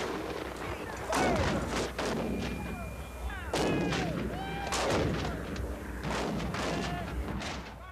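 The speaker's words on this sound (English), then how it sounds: "an artillery duel rages." A Civil War artillery cannonade: repeated heavy booms of cannon fire and gunfire overlapping in a loud, continuous battle din with sharp blasts every second or so.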